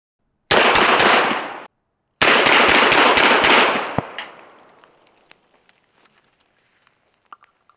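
A Beretta 1301 shotgun fitted with an Aridus Imperium handguard fires two rapid strings of loud, close shots, each string about a second long, followed by ringing echoes and scattered faint clicks and clinks.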